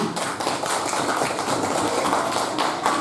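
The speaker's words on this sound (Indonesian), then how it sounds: "Boleh tepuk tangannya untuk CGP kita." An audience at a school event breaks into steady, dense applause, many hands clapping together at full volume throughout with no speech.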